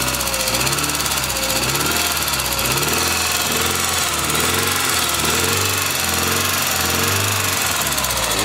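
Old early-1960s car idling after a cold start from sitting all summer, a steady close engine drone with a light rhythmic valve tick running throughout, no talking.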